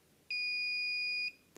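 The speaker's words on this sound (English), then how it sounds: "you press the info key and hold it, and you make sure that it beeps" An infusion pump gives one steady, clear electronic beep lasting about a second as its keypad lock is set by holding the info key, loud and close in a quiet room.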